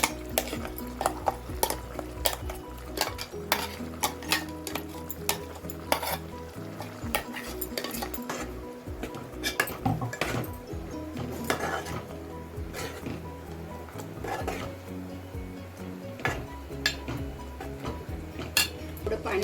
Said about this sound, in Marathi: आता आपण हे वाटप त्याच्यात घालून घेऊया